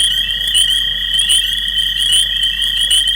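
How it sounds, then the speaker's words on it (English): Frog chorus at a nature preserve at night, with a toad's trill joining a steady, dense wall of high peeper calls and a leopard frog, continuous and loud throughout with no voices. "Oh, there's a toad that just started calling."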